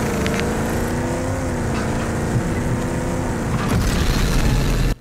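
A heavy vehicle in Rage 2 rumbles steadily with a droning engine and rough low roar, loud and continuous, swelling slightly before cutting off abruptly at the end.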